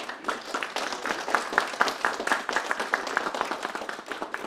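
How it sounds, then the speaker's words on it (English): Audience applause closing a talk event, individual claps clearly distinct in a lively, moderately close round that holds steady for several seconds. "let's have a warm round of applause."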